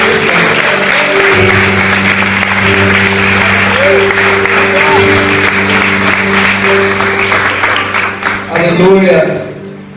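Congregation applauding during a church service, broadband clapping sustained for most of the stretch over a steady music drone, fading toward the end as a voice comes in.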